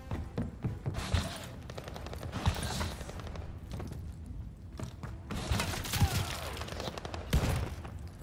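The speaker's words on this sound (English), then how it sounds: "I hear a shotgun." First-person shooter gameplay with bursts of gunfire, including shotgun blasts, crackling in rapid clusters amid thuds and footsteps, mid-distance and moderately faint.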